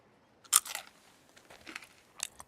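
A person bites into and chews a crunchy puppy snap dog treat, making a few sharp, close crunches followed by softer chewing crackles.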